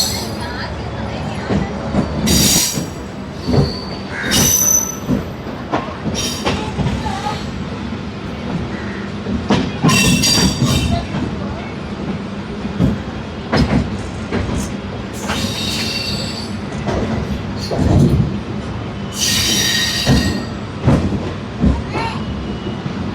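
MEMU passenger train 67229 running from Vijayawada toward Guntur, heard from inside the last compartment: loud continuous rumble with rhythmic wheel clatter and occasional squeals, while people talk over it.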